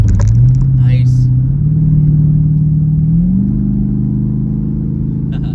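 A Jeep SRT engine drones steadily as it settles back into 8th gear, with a low rumble that dips and then shifts to a slightly different pitch partway through, loud and close inside the cabin.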